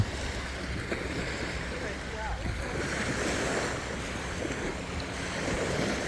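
Sea waves wash onto the beach at Hat Luk Lom on Ko Samae San, Sattahip, a continuous soft surf with wind rumble across the microphone.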